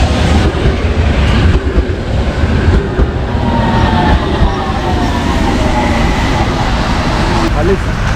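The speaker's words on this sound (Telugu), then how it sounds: "ట్రామ్ వస్తుంది ఒకటి." A tram pulling into a tram station in Venice, Italy gives a loud, continuous rumble of wheels on rails, with faint squealing tones, close by and filling the whole stretch.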